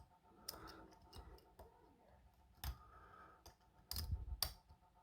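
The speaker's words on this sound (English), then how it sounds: "Got a little click off that bottom when you see that, and a little turn of the core." Small, sharp clicks from a TSA dimple lock being picked with a small tension wrench, a few close, quiet ticks spaced irregularly over faint background noise.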